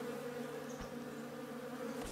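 Bees buzzing around a bee nest in the video game Above Snakes, a steady low droning hum held quietly throughout with small flickers of wingbeat variation.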